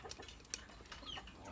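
Chickens cluck softly at feeding time in a backyard, a few short faint clucks and calls scattered over light background noise.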